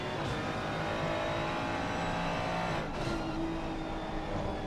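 A BMW race car's engine at Brands Hatch, a steady sustained drone with little change in pitch and no one talking.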